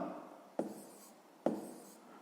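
Pen strokes scratching on paper while working a sixth-grade maths exercise, two quick close marks separated by a pause, quiet and alone.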